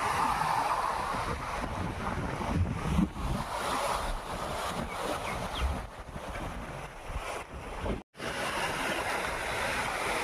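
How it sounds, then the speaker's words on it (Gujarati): Floodwater of the swollen Banas river rushes past in a steady, loud, broadband roar, with wind buffeting the microphone throughout and a brief dropout near the end. "જોઈ લો પાણી જઈ રહ્યું છે"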